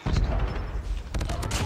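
Rapid automatic bursts from a P90 submachine gun in a video game, loud sharp reports in quick succession across the short span, with a voice talking over them.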